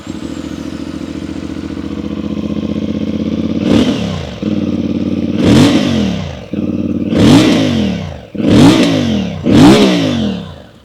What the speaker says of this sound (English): This is a 270-degree crank 450cc parallel twin engine